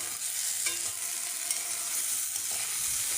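Squash, potato and carrot sizzle steadily in a hot pan while being stirred, a close, continuous frying hiss with occasional scrapes of the utensil. No one speaks.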